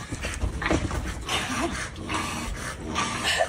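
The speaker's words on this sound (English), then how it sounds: "Dog don't know what to do, bro." A large dog near a pool whimpers and yips restlessly at close range, with short whiny cries repeating over a busy, noisy background.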